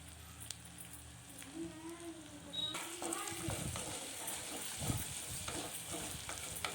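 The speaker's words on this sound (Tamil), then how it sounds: "2 பெரிய சைஸ் வெங்காயம் நல்லா வதங்கட்டும். கொஞ்சம் உப்பு போட்டு நல்லா வதக்கிக்கலாம்." Large onions sautéing with salt in a pan for bitter gourd curry, a soft steady sizzle with stirring scrapes, close and faint, joined by a brief murmur of voice.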